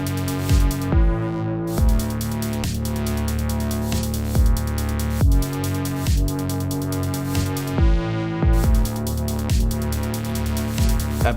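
A dark synthwave-style electronic track plays on an Elektron Syntakt, a steady repeating bass line under regular percussive hits and sustained synth tones, loud and continuous with no voices.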